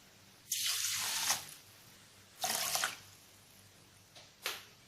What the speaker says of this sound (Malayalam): ഇനി നമുക്ക് ഇതിലേക്ക് ഇത് ഏകദേശം മുങ്ങി നിൽക്കുന്ന രീതിയിൽ വെള്ളം ഒഴിച്ചു കൊടുക്കാം.